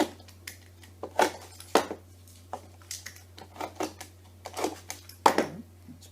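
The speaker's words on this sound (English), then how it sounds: "Let's just see if they'll cut with a knife better, because they're a little bit small." A knife cuts small pieces for a scratch-built model goods shed, a series of close, light clicks and taps at an uneven pace over a steady low hum.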